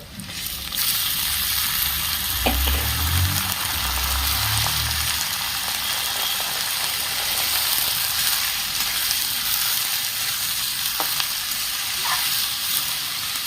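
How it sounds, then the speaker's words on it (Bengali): Washed parboiled rice and masoor lentils drop into a hot pan with a loud burst of sizzling at the start, settling into a steady frying hiss for the rest, with no voices. "ধুয়ে রাখা চাল আর ডাল দিয়ে দিচ্ছি"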